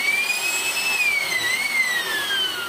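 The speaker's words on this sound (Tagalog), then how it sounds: "This is our blower. Maximum power of 800 watts." An 800-watt electric blower vacuum, used for cleaning a 2022 Toyota Hilux G, runs steadily with a high whining motor tone over a rushing airflow hiss, close and constant.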